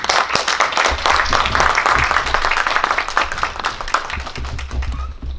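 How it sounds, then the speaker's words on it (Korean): An audience at a Seoul city forum on establishing a national Day of Challenge claps steadily, a loud dense round of applause running throughout without pause. "이 두 분에게 정말 뜨거운 격려의 박수 한번 부탁드리겠습니다"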